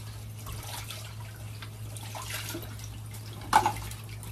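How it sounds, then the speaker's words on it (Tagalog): Food bought at a market rinsed under running water: a steady wash of flowing water with a brief louder splash near the end. "Banlawan lang natin to."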